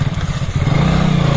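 Motorcycle ridden on a road near Hirakud Dam in Odisha: loud, close engine with a steady throbbing pulse that briefly dips and then picks up again, heard on its own.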